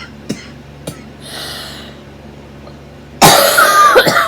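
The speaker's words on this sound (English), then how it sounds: "And I hate my cough." A person coughs several times: two brief sharp coughs early, then a loud harsh burst of coughing near the end, close to the listener.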